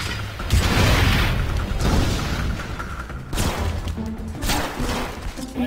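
Rocket explosions in the video game Demons of the Badlands, a continuous heavy roar of booming blasts that swells and rolls, loud and close, with a fresh burst midway.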